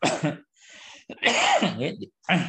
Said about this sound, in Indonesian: Mohon maaf nih batuk